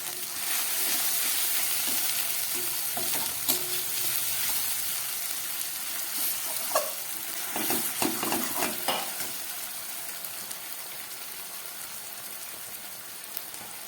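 Spice masala sizzles in a pan for a tangra fish curry, a steady close fry hiss with occasional scraping stirs and clinks partway through.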